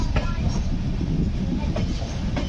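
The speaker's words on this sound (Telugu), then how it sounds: "ఈ గీతాంజలి ఎక్స్ప్రెస్ ఈస్ట్ ఇండియాని వెస్ట్ ఇండియాని కలిపే ట్రైన్." Gitanjali Express, the Mumbai–Howrah passenger train running between Nagpur and Howrah in humid weather, rumbles steadily on the rails with a dense low roar and faint rhythmic wheel clacks, loud and continuous throughout.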